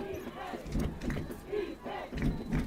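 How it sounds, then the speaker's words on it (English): A home crowd of Husky football fans cheers and shouts for the defense at a high school semifinal game, a distant, roaring wash of voices rising and falling in waves. "Husky crowd cheering for defense"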